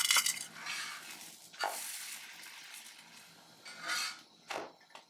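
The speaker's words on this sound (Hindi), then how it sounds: "हल्का सा तेल डालेंगे और आपने इसको अच्छी तरह जो है फ्राई कर लेना है।" A ready-made paratha frying in a little oil in a pan gives a soft, steady sizzle, with a few louder scraping or pressing bursts now and then and no talking.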